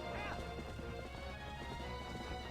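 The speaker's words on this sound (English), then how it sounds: "that horse is running in circles" Horse galloping in circles in The Legend of Zelda: Twilight Princess HD: rapid, steady hoofbeats under a dense, loud game soundtrack, continuous throughout with no talk.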